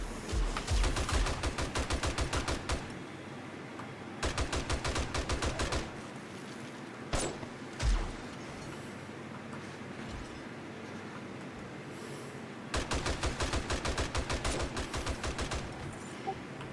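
Automatic turrets fire on zombies in 7 Days to Die, loud rapid bursts of mechanical gunfire in three long strings with quieter gaps and a couple of isolated thuds between them.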